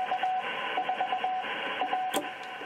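Shortwave radio reception on the 10 meter band through a dipole antenna: a steady band of hiss and static with a faint intermittent tone pulsing through it, plus a brief crackle burst near the end.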